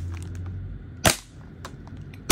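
A WE R5C V3 airsoft gas blowback rifle fires sharp, loud cracks during a chronograph test, one strong shot near the middle and another at the end, with faint clicks between.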